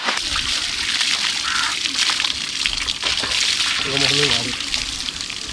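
Water sloshing and splashing as termite-mound clay is rinsed off the skin, a continuous close wet wash with brief pouring bursts, heard under ongoing talk.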